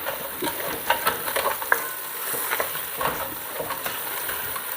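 A wooden spoon scrapes the bottom of a hot pan as red wine deglazes it, giving a steady close sizzle broken by rough scraping strokes and soft knocks.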